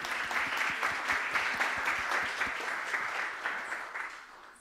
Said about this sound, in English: Let's give a big round of applause to Black Swan AI.